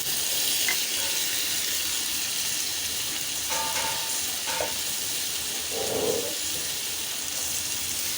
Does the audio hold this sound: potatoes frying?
yes